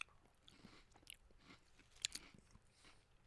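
Close, crunchy chewing with irregular crisp bites and crackles, fairly quiet, with no talking.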